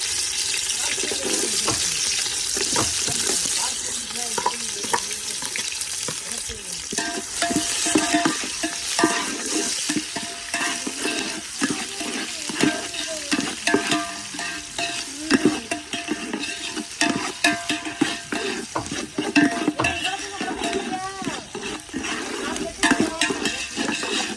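Onions sizzling loudly in a pan while being stirred continuously, with busy scraping strokes, a running water sound and occasional faint voices in the background.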